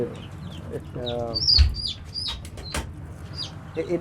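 Chickens cluck and squawk on a poultry farm of exotic fancy breeds in Mymensingh, with several birds calling close by in short bursts, a brief flap and scattered chirps while a person's voice is faintly present.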